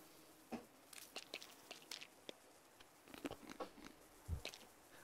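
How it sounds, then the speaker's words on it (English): Several short crunchy bites from pills being taken in the survival game Sons of the Forest, a quick sequence of crisp chewing clicks spread over the moment, fairly quiet and with no talking. "when you take the pills, it does a crunching noise. Like you're eating them."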